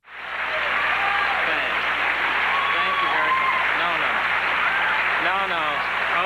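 A sitcom's studio audience breaks into cued applause that swells in quickly and holds as a full, steady roar of clapping, while voices talk over it.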